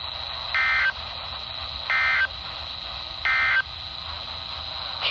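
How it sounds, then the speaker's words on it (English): A NOAA weather radio warning alarm tone sounds during a weekly test from transmitter WWF60 at Buck Mountain, North Carolina: three steady high-pitched beeps, each about a third of a second long, repeating evenly over a constant broadcast hum. "the National Weather Service has just activated the public warning alarm tone in the test of"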